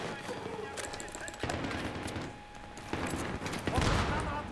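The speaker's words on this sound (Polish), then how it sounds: "Będziemy teraz strzelać na oślep." Rapid bursts of video game gunfire crackle repeatedly, with a couple of louder volleys, heard at moderate distance over a steady background.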